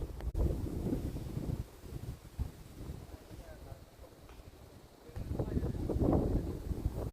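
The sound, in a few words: strong wind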